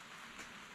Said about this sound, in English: Today we're at probably 45 and pouring rain.